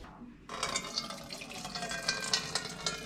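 Water and rendered fat from pork chops cooking in a pan are poured off, making a steady, close, splashing pour that starts abruptly and continues without pause.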